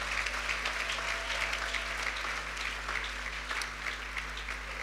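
A church audience at a Bible-week gathering claps, sending up steady, dense applause that lasts the whole stretch without a break.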